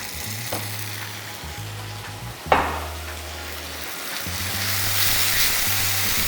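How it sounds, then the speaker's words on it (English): Water poured into a hot pan of egg curry masala with kasundi mustard sets off a sharp hiss, and the sizzle continues as a steady fry with a stirring scrape and a low background hum. "A little bit of water here."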